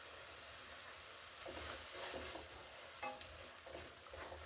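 Spice paste for a Maharashtrian methi dish frying in a pan, a soft steady sizzle with scraping stirs and occasional spoon clinks, faint and close.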